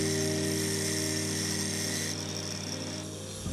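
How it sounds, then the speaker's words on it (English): Angle grinder with a flap disc smoothing a stainless steel fishing spear, a loud, continuous high whine held close throughout that eases off slightly near the end. "While I had the grinder out with a flopper disc, I just wanted to fair it up"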